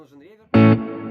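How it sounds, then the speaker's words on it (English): A voice speaks briefly, then a Fender Tone Master amp rings out a loud, full guitar chord drenched in big, wide spring reverb, its tail lingering after the strike. "when I need the guitar to sound big, I will add the whole reverb without the switching of the spring"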